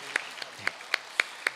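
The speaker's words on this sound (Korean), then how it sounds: "하나님께 영광의 박수 올려드리도록 하겠습니다." Sparse, separate handclaps from a church congregation during a Wednesday morning worship service, about six sharp claps spaced at an irregular rhythm, fairly faint, with no talking.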